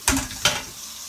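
Two quick scrapes of a spoon stirring ingredients into a beef pot roast in a pot, with a soft sizzle under each stroke, close and brief, no talking.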